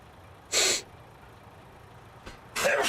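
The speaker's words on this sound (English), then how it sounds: "Sneeze building." A sneeze bursts out near the microphone as a short broadband blast, then a second forceful sneeze-like burst follows about two seconds later, with a faint breath between them over a quiet background.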